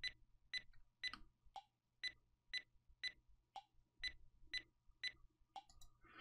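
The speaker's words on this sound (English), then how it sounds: "I created a little metronome beep just to give you an example" A custom metronome beep made in VEGAS Pro 18 ticks steadily about twice per second, with a lower-pitched accent beep on every fourth beat, played quietly and alone.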